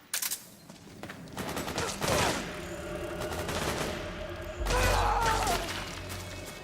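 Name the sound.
gunfire in Metal Gear Solid video game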